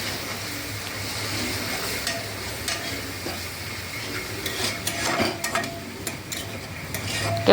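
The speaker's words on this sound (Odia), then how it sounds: "କେବଳ ଏଠି ଅଦା ରସୁଣ ପେଷ୍ଟ ଗୋଟା ମସଲା ଦେଇକି ପିଆଜଟାକୁ ମୁଁ ଭାଜୁଛି" Onion frying in oil with ginger garlic paste and whole spices for masala baingan, a steady close sizzle with scraping stirs and a few clinks of a utensil against the pan, no voices.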